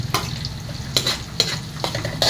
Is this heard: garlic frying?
yes